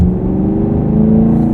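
A Camaro SS 1LE exhaust burbles with a steady, loud low rumble, continuous and close, with no talking over it.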